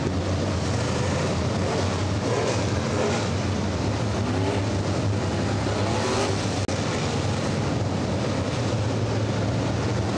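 Sportsman-class stock cars roar off at the start of a race at Atomic Motor Speedway, a dense, continuous engine rumble that holds steady throughout, heard from some distance with wind buffeting the microphone.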